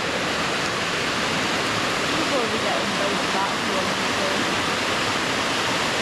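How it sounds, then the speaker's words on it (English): A waterfall in Eryri rushes as a loud, steady broadband roar, with a person talking briefly over it. "Just another waterfall."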